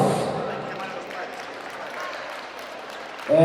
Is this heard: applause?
yes